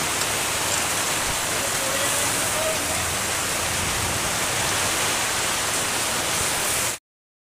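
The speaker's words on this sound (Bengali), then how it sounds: "শুরু হয়ে গেছে মুষলধারায় বৃষ্টি।" Heavy evening downpour of rain, a dense, steady, loud hiss that holds unchanged for about seven seconds and then cuts off abruptly.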